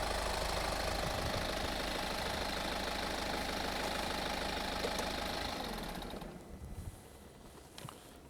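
A 2017 BMW X3 20d xDrive diesel engine idles steadily with a low, even rumble, then shuts off and fades near the end, leaving quiet with a few faint clicks.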